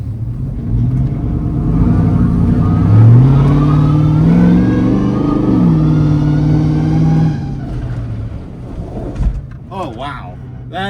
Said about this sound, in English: I'm gonna accelerate really hard and then slam the brakes and see if it still does that.